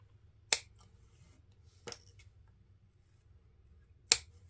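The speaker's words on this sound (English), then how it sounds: "I'm just going to go ahead and cut off my tags here" Scissors snipping off product tags at a craft table while preparing for a burlap wreath: three sharp, isolated snips, fairly close, separated by quiet pauses.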